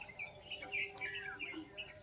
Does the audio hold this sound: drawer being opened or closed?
no